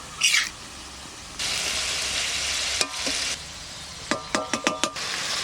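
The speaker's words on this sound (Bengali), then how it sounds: "টমেটো, এবার ভালো করে নাড়াচাড়া দিয়ে নেব" Tomatoes with cumin, coriander and chilli are stirred in a pan, giving short bursts of sizzling scrape, then a quick run of sharp clinks from the spoon against the pan.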